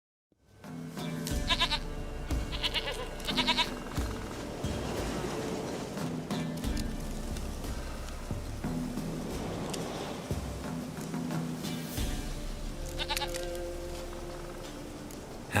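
A goat bleats repeatedly in the fantasy role-playing game The Witcher 3: Wild Hunt, several nasal cries rising over a steady wash of outdoor ambience and background music.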